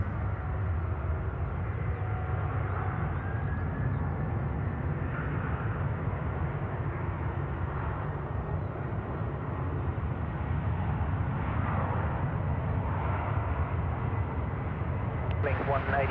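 An airliner takes off from runway 34 left at Sydney Airport, a steady, broad jet roar that holds loud for the whole stretch, with people talking faintly in the background.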